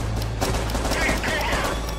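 Rapid gunfire from the PSVR shooter game Crisis Vrigade rattles in a dense, continuous burst, loud and close, with other game sounds blended in.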